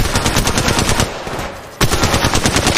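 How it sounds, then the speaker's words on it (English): Rapid automatic gunfire in the mobile shooter game Apex Legends Mobile, loud, dense bursts that pause briefly before resuming at full intensity. "Getting shot at. Opening fire."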